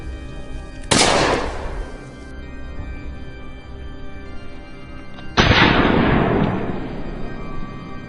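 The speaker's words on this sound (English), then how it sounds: "A barrage of gunfire rang out, each shot tracking the beast's every stride." Gunfire aimed at a charging wild boar estimated at over 400 pounds on a farm at the foot of a hill: two loud, sharp blasts a few seconds apart, each with a long echoing decay outdoors.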